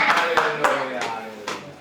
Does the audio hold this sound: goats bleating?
no